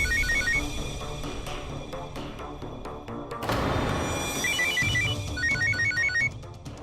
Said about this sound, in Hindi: मेरे को लगता है कि फोन फ्रीजर में बज रहे हैं।